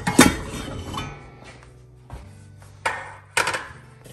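A kadai and other cooking pots handled in a home kitchen, with scattered metallic clanks and clinks, a few distinct knocks spaced over a few seconds, fairly close and moderate in level.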